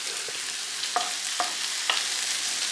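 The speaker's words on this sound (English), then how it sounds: "Now, I'm cooking it all in with butter." Omelette ingredients with two chilies fry in butter with a continuous close sizzle, broken by a few soft scraping stirs of a utensil in the pan; nobody speaks.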